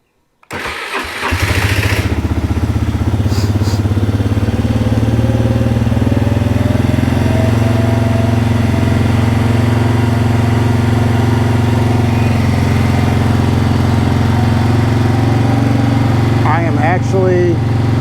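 A Toro mower or Polaris ATV engine cranks and catches after a long winter, then runs at a loud, steady idle close by for many seconds, with a brief bit of voice near the end.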